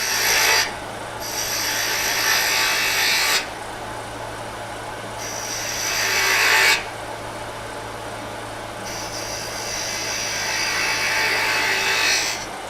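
A turning tool cuts wood on a lathe while a finial ornament is shaped, producing several long, rough scraping bursts separated by short pauses, with a steady low machine hum running underneath throughout.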